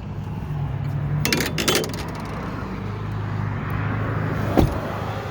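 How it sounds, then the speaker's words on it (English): A noisy Volkswagen vehicle running nearby, giving a steady rumbling engine hum with a few metallic clinks and rattles on top, heard without talk. "sorry about the noisy Volkswagen."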